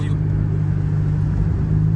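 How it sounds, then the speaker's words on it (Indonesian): An ambulance serving as a hearse drives along, its engine giving a steady, close, low rumble that holds evenly throughout with no clear change in speed. "Itu mobil ambulan, mobil jenazah, Dek."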